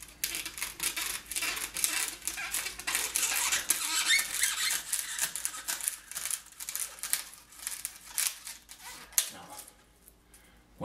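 Blade cutting through foam along a glued seam of a carved figure's face, a dense run of crisp crackling and crunching cuts close up, continuing steadily with brief pauses before stopping near the end.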